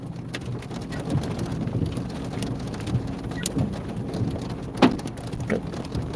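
Hail falling during a supercell storm in West Texas, a dense, steady patter with sharp clattering impacts scattered throughout, one louder hit standing out near the end, under gusty wind.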